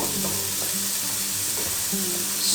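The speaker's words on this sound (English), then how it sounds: "Stir our rice" Rice is stirred in a hot skillet for a Tex-Mex dish, a continuous close sizzle with repeated scraping strokes of the spoon against the pan and no voices.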